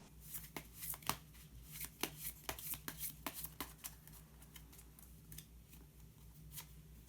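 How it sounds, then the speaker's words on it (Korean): Someone shuffles a deck of colour cards and draws one: soft, close papery riffles and sharp flicks scattered irregularly over a quiet room. "그러면 마지막으로 색깔로 알아보는 컬러 카드 한 장 더 뽑아보도록 하겠습니다."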